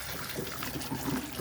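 Dirty water draining out during a backwash of a Jalamithra water filter, a continuous rushing, trickling flow at moderate level.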